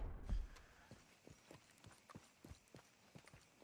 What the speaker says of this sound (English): Oh, there is a horse there.